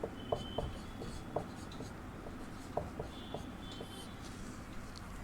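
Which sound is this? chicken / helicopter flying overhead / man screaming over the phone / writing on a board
writing on a board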